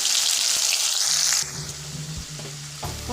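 Cumin seeds sizzle and spit in hot mustard oil while Odia-style aloo piaja bhaja is cooked, with a loud steady hiss that drops quieter partway through, followed by a few soft stirring knocks.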